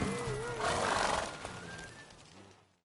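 Roach, a horse in The Witcher 3: Wild Hunt, gives a short close whinny with hoof clip-clops, the neigh rising then fading over a few seconds against game ambience.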